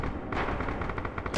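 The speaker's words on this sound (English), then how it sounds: "Tommy's gonna keep on firing high explosive into that C building on the top floor" High-explosive shells fired at a building in Red Orchestra 2, heard as a fast series of sharp, fairly faint blasts and cracks in quick succession, with a burst at the start and another at the end.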